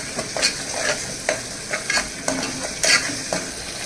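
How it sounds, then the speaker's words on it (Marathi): A spoon scrapes and stirs a thick onion, tomato, coconut and garlic masala in a pan, giving a series of distinct scraping strokes over a soft background sizzle. "आता हे मिक्सर आहे हे परत पुन्हा छानपैकी ढवळून घ्यायचं आहे"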